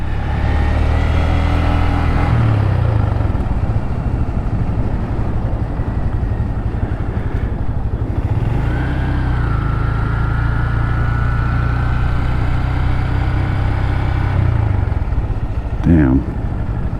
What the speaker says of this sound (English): The joys of having a small motorcycle.